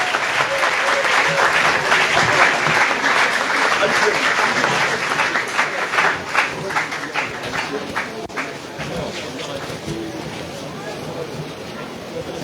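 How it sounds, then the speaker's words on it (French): A crowd gives a sustained round of applause to welcome the regional governor at a gathering in Ségou, dense clapping that holds steady and then thins slightly toward the end, with some background voices mixed in. "Et accueillons-le avec une salve d'applaudissements."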